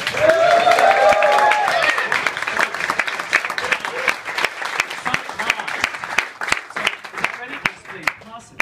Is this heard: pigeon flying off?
no